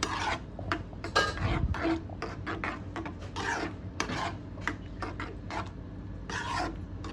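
A spoon scrapes and rubs around a pot of semiya payasam with cashew nuts, making a series of short rasping strokes in an uneven rhythm, close and moderately loud, with no speech.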